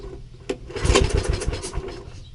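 A 1980s golf mower engine cranks and catches after a sharp click, running in rapid uneven pulses for about a second and a half before dying away, close and moderately loud.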